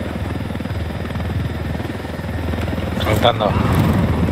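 A helicopter in the video game Ghost Recon Wildlands gives a loud, steady rotor drone throughout, with a person speaking briefly over it near the end.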